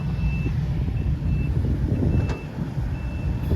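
A ten-wheeler truck hauling soil idles with a deep diesel rumble while its reversing alarm beeps at a steady interval, loud and close, with no talk.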